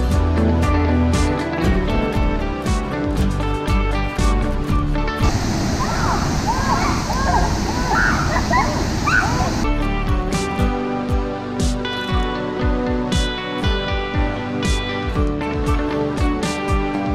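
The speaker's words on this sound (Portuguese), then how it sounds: "Primeira impressão de entrar nessa cachoeira vai ser agora." A person wades into a cold waterfall pool, with loud splashing and rushing water for several seconds in the middle, between stretches of music and talk.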